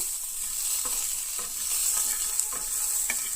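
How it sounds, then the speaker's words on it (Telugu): Peanuts fry in a little oil for chutney, a steady close sizzle broken by brief scraping stirs every half second or so, with no talking. "కొంచెం వేసేసుకుని ఆయిల్ కొంచెం దీన్ని బాగా వేయించుకోవాలి."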